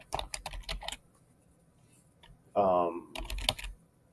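Typing on a computer keyboard while working in CAD software, two short bursts of quick clicking keystrokes near the start and end, with a brief spoken phrase in between.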